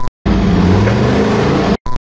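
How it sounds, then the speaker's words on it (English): A replacement RV engine with a suspected internal knock runs loudly and close for about a second and a half, a steady rumble cut off abruptly at both ends, with no speech. "Something's knocking in the engine."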